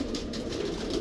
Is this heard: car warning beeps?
no